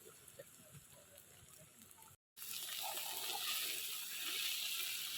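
Bitter gourd (karela) fries in a pan with a soft, faint sizzle. After a brief dropout it returns as a steadier, brighter hiss of cooking.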